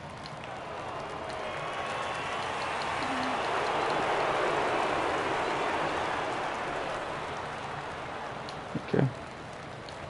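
Steady rain hiss in a baseball video game, swelling gently through the middle and holding as a broad wash, with a brief louder knock near the end.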